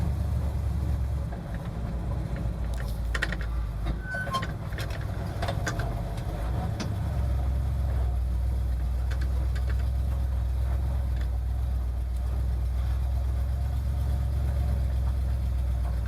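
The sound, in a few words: 1971 Ford F250 Highboy engine idling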